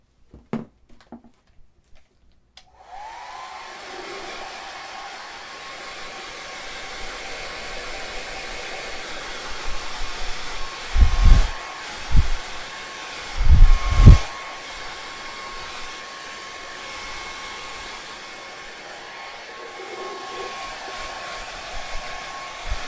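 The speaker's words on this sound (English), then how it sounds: "I'm going to go ahead and take the hair dryer to it" A hair dryer switches on after a few clicks and blows steadily with a loud whooshing whine, briefly muffled by bumps and rustling.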